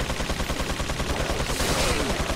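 Rapid gunfire in Resident Evil 4, a continuous rattling stream of shots with a steady machine-gun rhythm, loud and close throughout, with no talk over it.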